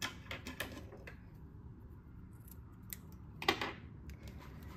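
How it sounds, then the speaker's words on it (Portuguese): Scissors snip through crochet yarn, a few faint, close, crisp clicks and short cuts over a quiet background, with one sharper snip near the end. "Agora, eu vou cortar esse fio."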